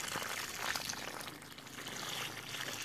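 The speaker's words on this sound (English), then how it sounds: "make sure you give it enough water, just like so" Water poured from close by onto a newly planted Hass avocado tree, a steady splashing trickle that runs unbroken for about three seconds with no voices.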